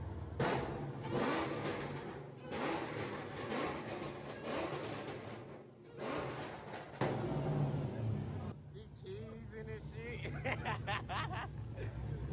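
A Chrysler 300 engine with a flame tune revs and roars continuously, with people talking and laughing loudly over it.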